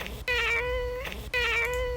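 A sampled cat meow is played twice in a row, pitched and auto-tuned to a musical key so each sustained, clean mew rings with a clear tone, up front over a faint low backing.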